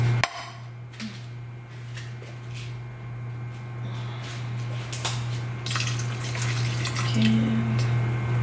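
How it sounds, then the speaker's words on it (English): Chicken broth from a can pours into a pot of potatoes and water as a steady liquid stream and splash. A low electrical hum runs beneath it, with a sharp knock at the start and a few light clinks. "I'm just gonna pour it in there."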